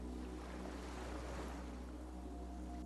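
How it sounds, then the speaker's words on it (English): A skiff rocking on open water in the video game Disco Elysium, heard as a steady wash of waves and wind with a low hull rumble, continuous and even throughout with no voices. "The skiff rocks gently under your weight as you get in."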